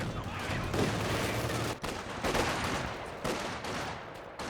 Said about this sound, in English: Got the heavy mortar out from gold medal